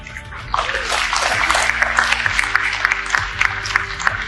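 A crowd at a political gathering applauds, a thick, continuous patter of clapping with sharper individual claps poking through, fairly loud and sustained.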